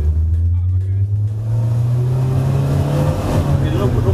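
A car's engine is floored under hard acceleration, a loud steady drone climbing gradually in pitch, with a sharp rise in revs near the end.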